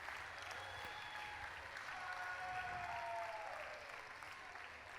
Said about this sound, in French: Merci de les applaudir chaleureusement aussi.